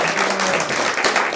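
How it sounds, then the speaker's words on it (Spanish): Church congregation applauding together, a full, busy burst of clapping filling the space, loud and continuous for a short moment with faint voices mixed in. "les damos un aplauso, por favor"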